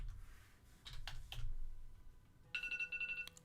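A phone rings briefly near the end, a short electronic ringtone with steady tones after a few faint clicks and rustles, fairly quiet and with no talk.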